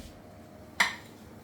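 A plate set down once while serving homemade Chinese momo, a single short clink standing out against quiet room tone.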